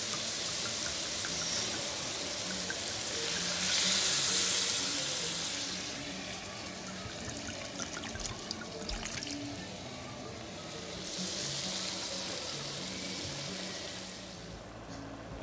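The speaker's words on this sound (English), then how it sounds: "now it's time to add the white wine" White wine poured into a pan of shrimp and clams, a steady liquid splash and trickle that swells and fades twice over a low kitchen background, with no talking.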